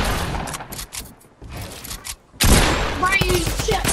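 Drum gun firing in the Fortnite video game, a burst of rapid automatic shots that starts suddenly and runs loud and dense to the end, with quieter game sounds before it and voices heard in places.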